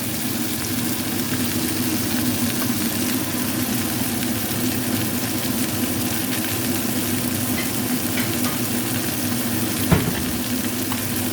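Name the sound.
frying fish in a pan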